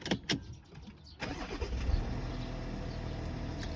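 A 2015 Volkswagen Touareg 3.0 TDI diesel cranks briefly after a few clicks, then catches and settles into a steady, loud idle rumble close by.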